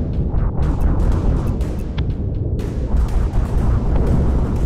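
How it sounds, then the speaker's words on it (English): Weapons fire continuously at a shield subsystem during a battle in the VR strategy game BattleGroupVR, a loud, dense rumbling barrage of booms and blasts that runs unbroken from start to finish. "shoot at the shield subsystem"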